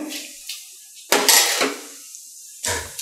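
A spoon scrapes and clatters in a pan while stirring a Kashmiri red chilli garnish for pineapple kalan, a few short metallic knocks and scrapes with pauses between, close and moderately loud.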